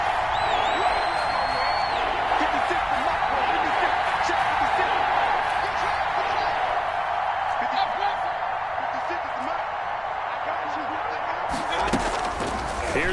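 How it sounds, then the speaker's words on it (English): Steady roar of a stadium crowd in a PS4 American football video game during a big third down, a continuous broad wash of cheering with scattered whoops and a slam near the end. "The crowd getting into it as we come up on a big 3rd down."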